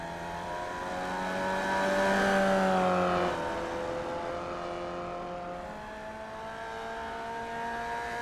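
A Formula Vee race car in the iRacing sim on a warm-up lap at Tsukuba: a steady, loud engine drone that swells midway and then settles into an even cruise, with no voices.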